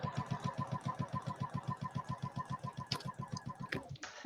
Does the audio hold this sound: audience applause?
no